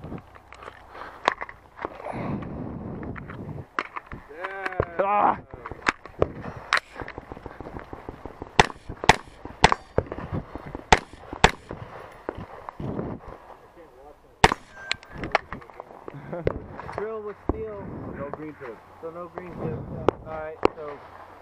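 Rifle shots ring out at a night shooting range, sharp loud cracks in irregular bursts, some hitting a big steel target, mixed with people talking nearby throughout.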